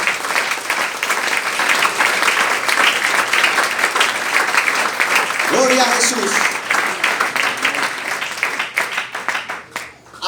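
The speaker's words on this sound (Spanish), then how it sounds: "ríndale un aplauso al Señor." Church congregation applauding loudly and steadily through most of the stretch, with a voice calling out praise partway in over the clapping, before the applause tapers off near the end.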